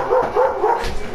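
Small dogs bark in a quick run of three or four close, loud yaps, then trail off.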